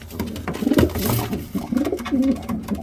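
Several pigeons coo in low, rolling bursts, fairly close, with soft rustling and wing shuffles in between.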